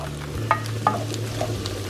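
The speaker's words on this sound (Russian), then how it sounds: "И здесь немножко будем это все пережаривать до такой красивой золотистой корочки." Eggplant and onion fry in a pan, a soft steady sizzle with a few light stirring clicks over a low hum.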